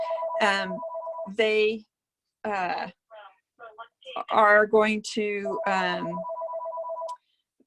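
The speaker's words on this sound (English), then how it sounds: "Sorry that my phone is ringing." A mobile phone ringtone sounds in repeated electronic bursts during a virtual roundtable, ringing under and between a man's speech throughout.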